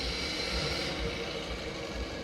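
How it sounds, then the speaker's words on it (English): A faulty car engine runs badly, giving a steady low rumbling drone with a rough, uneven throb. "anyone can tell that there's something bad with this engine."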